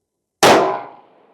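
A rifle bullet strikes a steel gong target 600 yards away, a single loud metallic clang with a bright ringing tail that fades over about a second.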